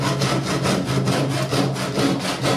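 A hand saw cuts a piece of wood flush while building a rustic wooden floating table, with loud, close, rhythmic back-and-forth strokes repeating evenly throughout.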